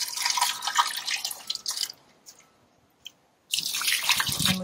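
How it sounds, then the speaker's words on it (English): Water gently poured into a small frog pond, a close splashing trickle that runs for about two seconds, stops for a quiet pause broken by a faint drip, then resumes as a steady pour. "And then gently add the water in, probably at one corner."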